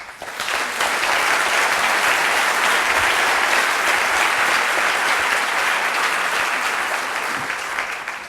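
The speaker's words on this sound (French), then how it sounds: "je vais profiter d'une petite partie de mes secondes pour vous demander d'applaudir ces 2 dernières personnes." Sustained applause from a large conference crowd, steady and loud for the whole stretch, with no voices standing out above the clapping.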